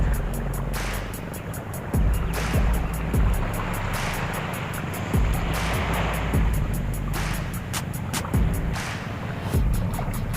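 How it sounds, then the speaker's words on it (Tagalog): Strong sea waves still running two days after a storm, a steady broadband roar of surf with periodic louder surges and splashes, no voices. "two days nang humupa yung bagyo dito pero malakas pa rin yung alon."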